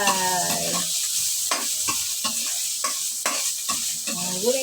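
Squash and other vegetables sauté with smoked fish in a hot pan, a loud steady sizzle broken by regular scraping stirs of a spatula, heard up close without talk.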